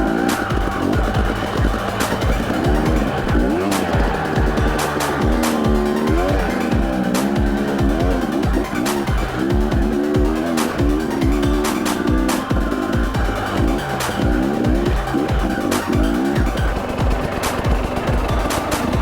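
An XR 100 dirt bike runs along a forest trail at Stolle Meadows near Cascade, Idaho, its small engine buzzing and revving loudly and continuously, rising and falling with the terrain.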